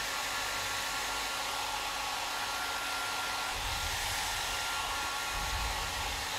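A hair dryer blows continuously and close, a loud steady rushing roar with a low motor hum that briefly swells in the bass a couple of times; no one speaks.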